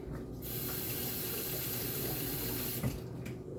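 Water runs steadily from a kitchen tap as a cup is rinsed beneath it, a loud, continuous rushing stream that cuts off sharply near the end with a brief splash.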